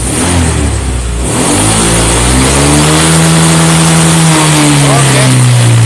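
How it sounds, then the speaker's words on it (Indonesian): A Honda Vario 125 scooter with a fault that costs it power at high RPM is revved hard at full throttle, its engine note climbing steadily and holding high and loud, close to the listener. "coba sekarang dihidupkan sepeda motornya"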